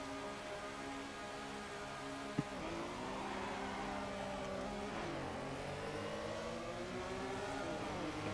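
An old Porsche race car engine in Assetto Corsa, revving steadily with a rising and falling whine, close and continuous, with a brief click partway through.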